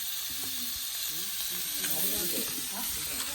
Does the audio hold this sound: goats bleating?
no